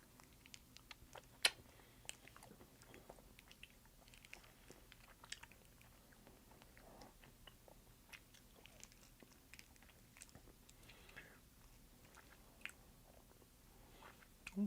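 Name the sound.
chewing Sour Kids sour candy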